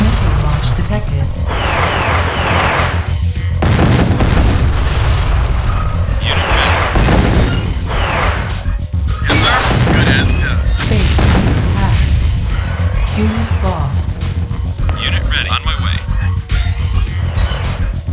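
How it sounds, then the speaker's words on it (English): Missile launch and explosion in Command and Conquer: Tiberian Sun, heavy booming blasts and rumbling detonations over constant battle noise, with voices speaking over the din. "Missile launch detected."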